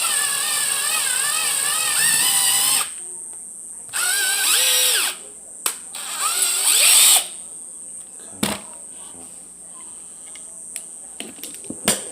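A power drill bores slowly and steadily straight through a clamped die, its high whining bursts starting and stopping in several runs, loud and close, with short quiet gaps and small knocks between them.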